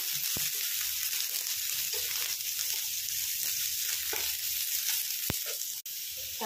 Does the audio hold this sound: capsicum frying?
yes